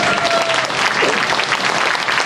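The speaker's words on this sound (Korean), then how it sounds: "다시 한번 격려 박수 보내주시기 바랍니다." A large audience in a Sejong Center hall gives a round of encouraging applause, a dense, steady wash of clapping that stays loud and even throughout, with faint voices mixed in.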